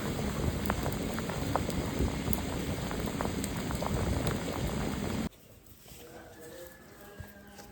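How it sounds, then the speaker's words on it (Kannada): Village-style rice porridge (ganji) boiling hard in a pot, a dense, close bubbling and popping that stops abruptly partway, leaving a quiet room with faint small sounds. "ನೋಡಿ, ಈಗ ಇದು ಕೊತ ಅಂತ ಬೇಯಲಿಕ್ಕೆ ಸ್ಟಾರ್ಟ್ ಆಗಿದೆ."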